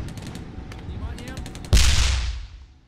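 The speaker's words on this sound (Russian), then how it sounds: "Выстрел." In the video game Theatre of War 2: Kursk 1943, soft rhythmic clicks lead into a single sudden loud cannon shot that booms, rings out and slowly fades, with no talking.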